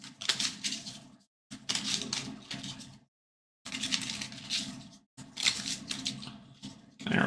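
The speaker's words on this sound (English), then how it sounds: "I'm going to give these a lovely shuffle." Treasure deck cards from the Sword & Sorcery: Ancient Chronicles board game being shuffled in quick riffling bursts of papery clicks, close and clear, with short silent pauses between shuffles.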